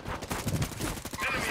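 Video game gunfire, with shotguns being fired online: a rapid cluster of sharp, overlapping blasts, moderately loud and crackling, packed into a second and a half with no talk over them.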